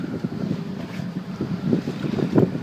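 A sailboat under way with its head sails set in a fresh breeze: steady wind buffeting and a low rush of water against the hull, with a gentle, continuous rhythm and no speech.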